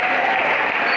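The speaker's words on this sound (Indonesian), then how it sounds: "insyaallah, tepuk tangan." An audience at an Islamic religious lecture claps in a brief burst, a dense, even patter of hands lasting about a second.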